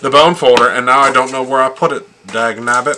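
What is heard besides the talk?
No everyday noise stands out behind the speech.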